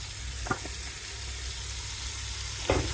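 Tomato puree cooks in a hot spiced masala base for pav bhaji, giving a continuous even sizzle close by, with two brief utensil knocks against the pan near the start and end.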